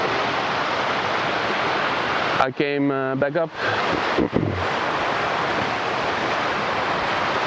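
River flowing through a small woodland canyon in winter, a steady broad rushing wash that fills the scene, briefly interrupted by someone speaking close to the microphone before the flow resumes.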